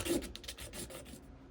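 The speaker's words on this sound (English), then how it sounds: "because those edges are rough, I'm also just gonna kind of get those sanded down as well" Fine-grit sandpaper rubbing the rough edges of a small resin nail charm, with quick repeated close scratchy strokes in a brief burst.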